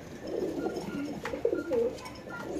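Pigeons at a pigeon farm give several soft, throaty coos up close, rising and falling in a loose overlapping rhythm against a quiet background hum.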